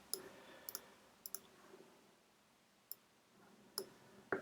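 Sharp computer mouse clicks while saving settings during an Exchange 2016 setup, scattered singly and in quick pairs across a quiet room background, close and fairly faint.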